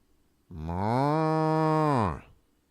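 A single loud, sustained cow moo plays as a sound effect during a baseball game broadcast, rising and holding for over a second before cutting off cleanly, with no talking over it.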